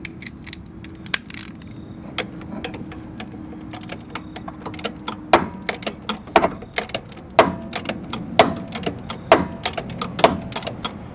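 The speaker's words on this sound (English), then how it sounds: "We got to come back in and we got to tighten up the other jam bolt for the adjuster." A wrench tightens the jam bolt on the serpentine belt adjuster of a 2011 Hyundai Sonata/Elantra 1.8-liter engine, producing a close series of sharp metallic clicks and ratcheting snaps that grow more frequent.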